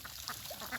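Indian Runner ducks on a farm quack in a few short, quiet calls that sound slightly distant.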